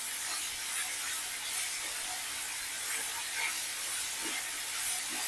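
Two large tomatoes fry in a pan for a fish masala curry, giving a steady, fairly quiet hiss and sizzle with no talking.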